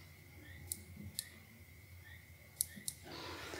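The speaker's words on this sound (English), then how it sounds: "And then I'm going to press it until I hear a click." A SIM card pressed into the slot of an HP EliteBook 850 G6 laptop gives a few faint, sharp clicks in a quiet room, spaced irregularly over a few seconds.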